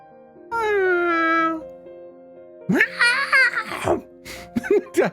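A drawn-out, high meow-like cry comes first, then a burst of giggly, babbling vocal sounds and short squeaks, with faint talk mixed in.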